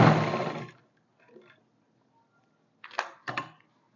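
A sewing machine stitches fabric up to a cut on a co-ord set, a loud run at the start, then after a pause two short, quieter bursts of stitching near the end.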